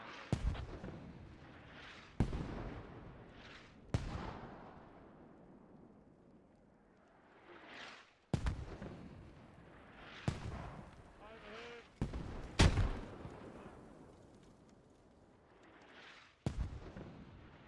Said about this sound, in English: Pretty close nade there.